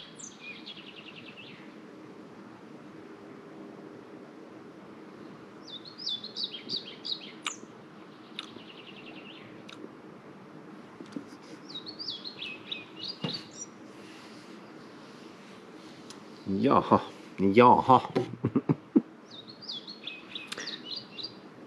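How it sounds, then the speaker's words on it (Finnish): Small birds sing repeatedly outdoors, bright chirping and twittering phrases coming and going over a quiet background, with a short spoken word and a loud rustling handling noise near the end. "Linnunlaulu."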